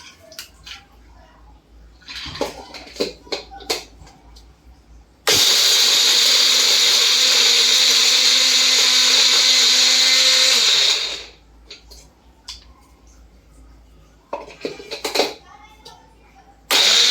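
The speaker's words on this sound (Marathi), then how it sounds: "छान पूड करून घ्यायची आहे" A mixer grinder roars for about six seconds, grinding kulfi ingredients into a fine powder, loud and steady before cutting off, with a voice and scattered household clatter before and after.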